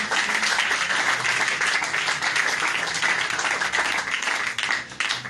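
A church congregation applauding for the glory of the Lord, sustained dense clapping from many hands throughout, loud and continuous with no voices over it.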